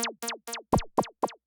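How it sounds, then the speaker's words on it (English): Ableton synth effect with an LFO sweeping its frequency, producing seven short falling zaps in a quick even rhythm, each bright tone bending downward, clear and alone. "And then the last sound is synth effects."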